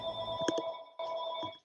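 A landline telephone in a roughly 100-year-old house rings with two short electronic trill bursts separated by a brief gap, fairly close and clear, with no one talking over it.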